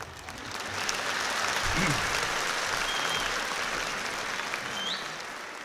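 Steady applause from an audience, a dense wash of clapping that holds evenly throughout without pause.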